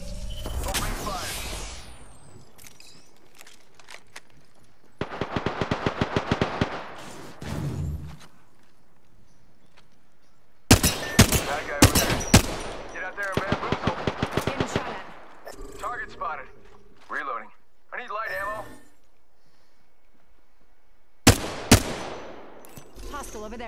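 Video game shootout gunfire comes in separated loud bursts of rapid automatic fire, with quiet gaps between them and a few scattered single shots and thuds.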